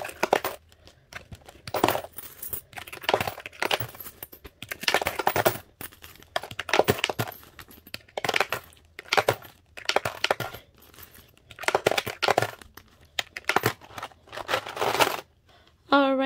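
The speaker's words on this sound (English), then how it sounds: "All right, here's my jar. Doesn't have that much coins" Coins clink and rattle as they drop into a mostly empty jar, a run of sharp metallic bursts spaced across the clip, fairly close and moderately loud.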